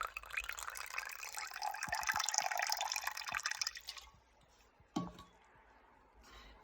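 Apple cider vinegar is poured into egg whites in a kitchen, a close liquid splash and trickle lasting about four seconds, followed by a short knock and quiet after the pour stops.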